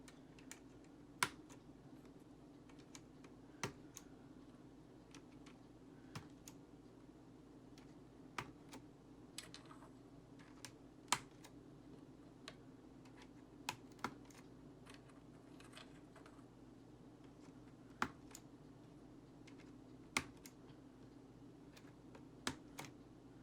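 Computer keyboard keys clicking one at a time during cleaning, sparse sharp taps at irregular intervals over a steady low hum, close and alone with no talk.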